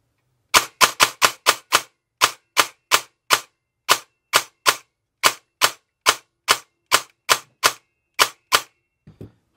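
Airsoft AEG rifle with a swapped gearset firing in semi-auto: about twenty sharp, loud, close cracks in quick uneven succession, each with a short mechanical snap, then a faint click at the end.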